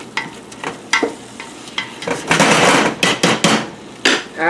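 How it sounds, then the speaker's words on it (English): Ground meat for chili browning in a pan, with sharp scraping and tapping from a utensil stirring it, then louder bursts of sizzling as the meat is turned, close and alone. "Stir this meat around, make sure it's getting well done."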